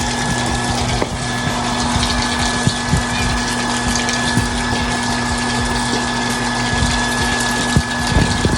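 An automatic intelligent water pump runs steadily, filling a water tank: a loud, continuous motor hum with rushing water throughout, close by and unbroken, with no talk.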